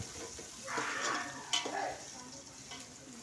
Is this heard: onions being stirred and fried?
yes